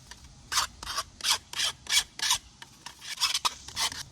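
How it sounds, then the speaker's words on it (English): A metal file rasping along a metal kiln vent tube in repeated short strokes, about a dozen rhythmic back-and-forth passes, close and clear with no talking. "I'm just taking a little bit of time here to file it."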